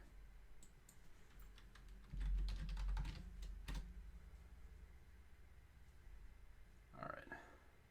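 Keys clatter in quick, uneven bursts on a computer keyboard, close and fairly quiet, with brief pauses and a low thump midway.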